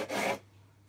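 A file rasps once, briefly, on an acoustic guitar being overhauled, a short close stroke that stops abruptly, leaving quiet room tone.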